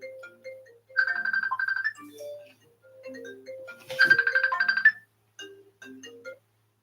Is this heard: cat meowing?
no